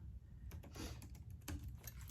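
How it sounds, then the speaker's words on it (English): Quiet, rapid clicking of keys on a computer keyboard, a steady patter of taps with no one speaking. "sorry, I'm typing"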